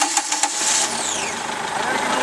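A boat outboard motor runs after being treated with fogging oil for winter storage, its engine note steady and close beside the hiss of high-pitched noise, with voices talking over it.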